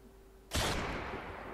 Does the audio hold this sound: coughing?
no